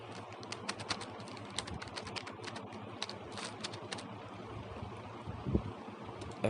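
Typing on a computer keyboard during a PowerPoint session, soft irregular key clicks in short bursts, close but quiet.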